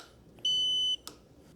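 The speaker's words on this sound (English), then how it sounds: "The turn signals do indicate up here on the screen, and they do beep" One clear electronic beep from an electric scooter's turn signal, a steady high tone lasting about half a second, sounds close by with soft clicks around it.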